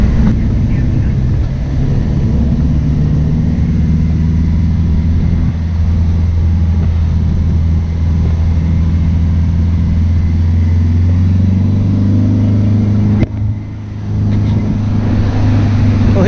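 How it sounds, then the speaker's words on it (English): The engine of a free shuttle bus in Kuala Lumpur runs with a steady low rumble that fills the cabin, constant and close, with a brief clunk near the end. "it turns out there's a free shuttle bus here"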